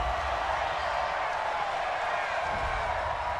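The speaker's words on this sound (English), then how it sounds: "Well, the crowd doesn't like that." A football stadium crowd at an NFL game reacts with a sustained, loud roar of disapproval after a penalty flag on third down, a dense wash of voices that fills the whole stretch.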